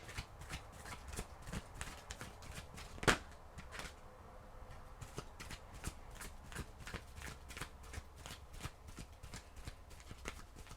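A deck of oracle cards being shuffled softly, a steady patter of light papery flicks and taps at low level, with one sharper snap partway through, in a quiet room.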